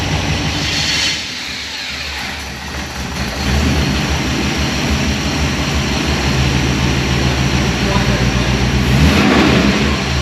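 A Holden HT with a swapped-in V8 runs loud and close, its rough engine roar rising and falling through revs over a sustained rumble.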